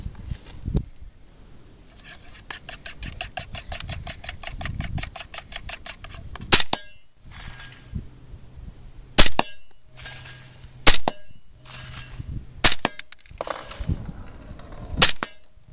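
A suppressed rifle fires about five sharp, loud shots with a few seconds between them. A rapid mechanical rattle comes before the shots, and there is faint handling noise between them.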